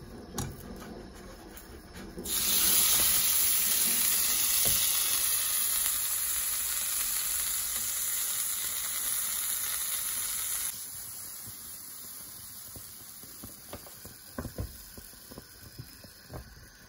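Vanilla pancake batter sizzles in a frying pan with a loud, steady hiss. The hiss eases to a quieter sizzle, broken by a few small clicks and taps near the end.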